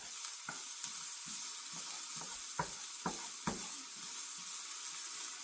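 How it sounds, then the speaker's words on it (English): Vegetables sauté in a pot as the base for cheeseburger soup, a quiet steady sizzle broken by several sharp clicks and knocks of stirring. "I kind of like to saute my vegetables"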